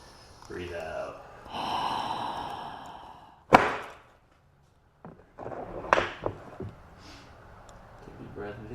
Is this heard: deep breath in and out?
yes